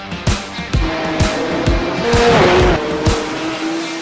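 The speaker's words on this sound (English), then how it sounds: "It's a good launch. 31 cars making their way through La Source." A pack of 31 Porsche race cars in an esports Supercup race at Spa-Francorchamps launching from the start, with roaring engines, sharp repeated gearshift bangs and tire squeal, loud and close, rising pitch as they accelerate.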